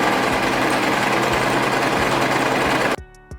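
Sewing machine stitching shearing gathers into a top bodice made from a men's top, a steady rapid mechanical whir with a regular thumping beat, loud and close, that stops abruptly near the end, followed by a few faint clicks.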